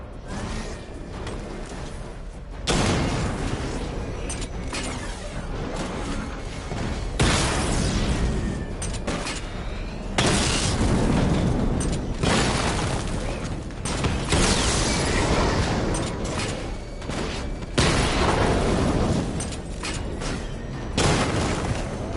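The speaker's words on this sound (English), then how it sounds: "Charge up missile barrage to level 2 and destroy 4 active targets to complete diagnostic test." Missile barrage explosions in the Batman: Arkham Knight video game boom loudly in a dense, continuous series, with fresh blasts surging every few seconds over a steady rumbling roar.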